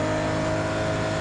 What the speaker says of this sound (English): Hear that flat 12 engine go.